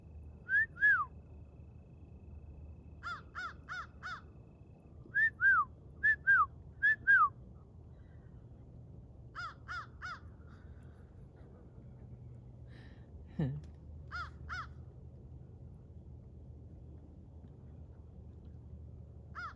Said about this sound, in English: Oh, that's the eagle.